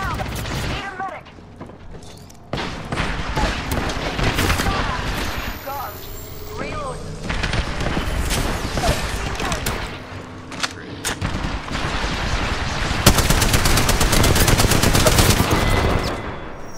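Video-game gunfire in a sustained, dense barrage of automatic bursts with mechanical clatter, loud and continuous throughout, while players talk over it.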